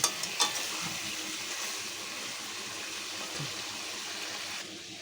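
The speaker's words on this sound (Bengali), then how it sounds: "তো এখন আমি এটাকে একটু কিছুক্ষণ ভেজে নেবো" Chicken pieces frying in mustard oil, a steady close hiss and sizzle with a couple of brief clanks at the start, fading slightly near the end.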